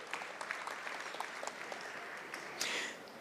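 Audience applause at a university academic and athletics award banquet for award recipients, a steady wash of many hands clapping in a hall, fairly soft and even, with a slight swell near the end.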